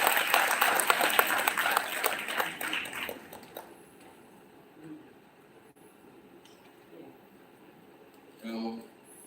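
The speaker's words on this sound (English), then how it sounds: "Can we give him a big round of applause" Applause from an audience greeting a minister at the Tribal Gathering 2022 event in Kuala Lumpur, clapping loud at first then fading out over several seconds, leaving quiet room tone and a brief voice near the end.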